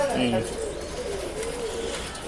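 A pigeon coos at a pet shop, a low repeated coo that starts clear and then blurs into steady room noise and nearby chatter.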